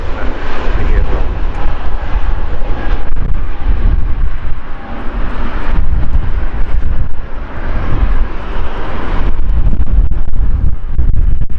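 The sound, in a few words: Airbus A320 jet aircraft passing at Manchester Airport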